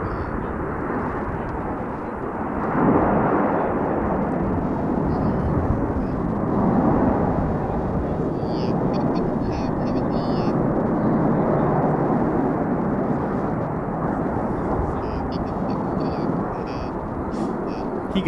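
Frecce Tricolori aerobatic jets fly a display at the Royal International Air Tattoo, a rushing jet roar that surges and fades in waves while a commentator talks over it.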